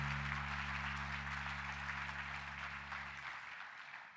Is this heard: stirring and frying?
no